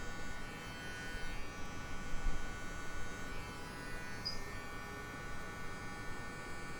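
Electric hair clippers fitted with the 1 guard hum steadily while cutting a taper, a close, continuous buzzing drone with slight swells as the blades work through the hair and no talking over it.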